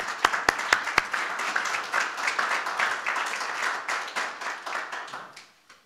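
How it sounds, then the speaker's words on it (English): Warm audience applause at a Santa Barbara transportation meeting welcoming Mark Bradley, president of COAST, opening with a few sharp nearby claps, then a full round of clapping that tapers off toward the end. "please give a warm round of applause for Mark Bradley, president of Coast"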